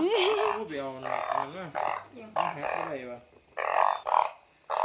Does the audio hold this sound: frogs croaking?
yes